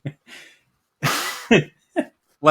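A burst of nose-blowing, then a few short sniffs and snorts in quick succession, loud and close.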